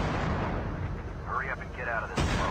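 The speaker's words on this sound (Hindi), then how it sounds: "हम फायर कर रहे हैं यहां से" Gunfire from the COD Mobile video game rattles through a dense burst of shots and booms, loud and continuous. A sharp blast lands near the end, and a voice talks faintly underneath.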